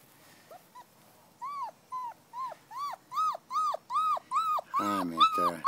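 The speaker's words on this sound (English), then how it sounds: "look at that puppy" A young puppy of a wolf-like breed whimpers in a rising series of high, thin, whining cries, sparse at first and then growing louder and more frequent, ending in a fuller yelp.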